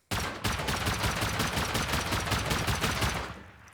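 Rapid automatic SAR rifle fire in the survival game Rust, hammering a sheet metal door during a bunker raid; a loud, steady stream of close shots lasting over three seconds after a brief opening burst, with no talk.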